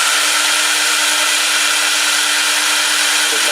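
A rotary power tool polishes a diesel engine part, giving a loud, unbroken high-pitched whine with a steady tone throughout and a slight change in pitch near the end, with no voices.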